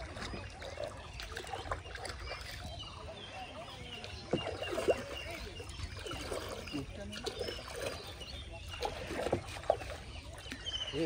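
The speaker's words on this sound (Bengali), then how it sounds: "আজকে আমি নৌকা চালানো ট্রাই করবো" A small wooden boat is rowed on a lake in a rural village, with soft water splashes, dribbles and occasional knocks over a low background, faint and close.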